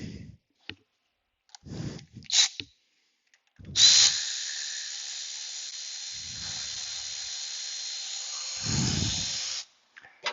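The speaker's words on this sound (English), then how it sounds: "Now we'll go to a battery tool." A battery-powered tool removing bolts on a 2005 Jeep Liberty during AC repair starts with a few sharp clicks, then runs a loud, steady, close whir for about six seconds before stopping.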